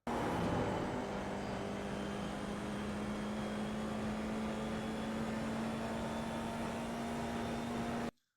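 F4 race car engine at full throttle in the iRacing sim at Summit Point, a steady, loud, close drone that climbs slowly in pitch for about eight seconds, then cuts off abruptly.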